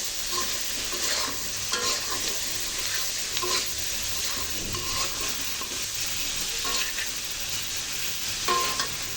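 Fresh tomatoes tip into a hot frying pan and are stirred, a steady sizzle and fry running throughout with scattered utensil scrapes and clicks against the pan, close and fairly loud, no talking.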